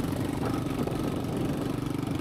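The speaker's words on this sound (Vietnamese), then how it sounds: "cái nền đất cát là tương đối cứng nên bọn mình vẫn có thể di chuyển bằng xe máy" A motorbike engine runs steadily at close range, a continuous mid-pitched drone with slight pulsing while riding across firm sandy ground on a tidal flat by the sea.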